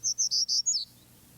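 A Townsend's warbler sings a quick run of five high, buzzy notes that rise slightly and then trail off, clear and close against a quiet background.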